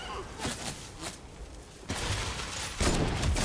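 Bursts of video game gunfire crackle in several dense volleys, rising in loudness toward the end, while players talk over the shooting.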